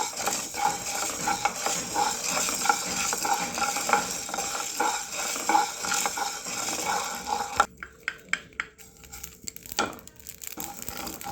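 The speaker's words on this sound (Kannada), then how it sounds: "ಮೆಣಸನ್ನು ಹುರ್ಕೊಳ್ತಾ ಇದ್ದೀನಿ ಕಾಳು ಮೆಣಸನ್ನು" Whole black peppercorns dry roasting in a pan for a traditional rasam powder, with steady scraping stirring and light rattling of the spice against the metal, then a quieter stretch of sparse clinks and scrapes.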